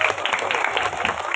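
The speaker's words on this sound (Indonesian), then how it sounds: "Coba dulu kita kasih tepuk tangan kepada kawan-kawan yang udah telah tampil tadi" An audience at an elementary school's Maulid Nabi commemoration claps for the student performers, with a steady, dense burst of applause filling the whole short stretch at close range.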